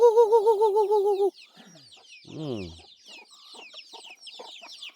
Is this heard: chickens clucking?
yes